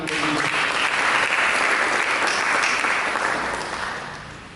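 Members of a church congregation break into sustained applause at a pastor's prompting, a thick, even crackle of many hands that stays loud throughout and fades a little near the close.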